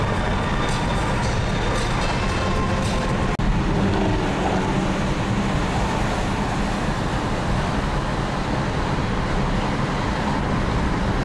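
Steady broadband road and engine noise from a car driving in Los Angeles toward Hollywood Boulevard, a continuous close rumble with no voices over it.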